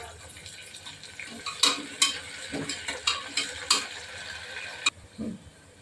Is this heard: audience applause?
no